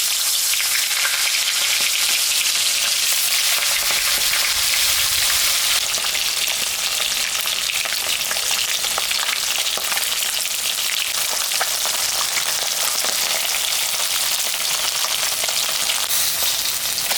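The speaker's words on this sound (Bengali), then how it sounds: "এখন আমি মাছটা ভাজে নেব।" Salted, turmeric-rubbed pomfret fish fries in hot oil in a wok, a loud, dense, continuous sizzle and crackle that holds steady throughout with no talking.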